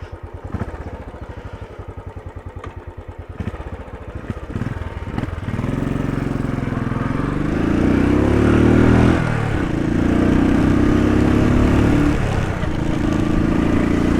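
Royal Enfield Desert Storm motorcycle on a test ride: a thumping single-cylinder idle gives way to a loud, steady engine drone that rises and shifts pitch as it accelerates through the gears, close and continuous.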